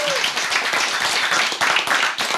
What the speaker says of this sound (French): Il n'y a pas eu autant d'applaudissements pour les invités masculins